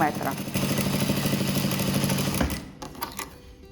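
A sewing machine stitches the seam of a flapped pillowcase at about a 0.7–0.8 cm seam allowance, a rapid, even run of stitching that stops abruptly, followed by a few scattered clicks.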